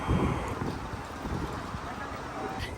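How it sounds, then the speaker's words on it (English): Wind buffets the microphone in a steady rumbling roar, with a faint voice briefly audible beneath the gusts. "It's windy, so I don't know if you can even hear me"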